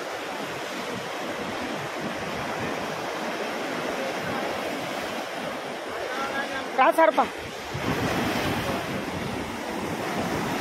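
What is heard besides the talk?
big ocean waves at Chennai beach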